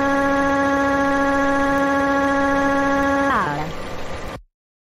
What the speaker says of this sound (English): I'm going to suck you in the vacuum cleaner